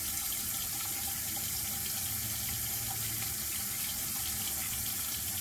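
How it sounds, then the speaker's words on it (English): A tap runs steadily into a sink during a shave, producing a constant, close hiss and splash of water that stays even throughout, with no voices. "Sorry, I left the water running during that."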